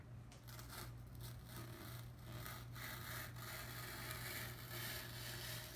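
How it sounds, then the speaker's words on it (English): An X-Acto knife cutting through a board for a custom Jeep JK headliner, giving a steady, faint scraping rasp that keeps going with slight pulses in a quiet room. "Got my X-Acto knife, and we'll see if I can get it cut out"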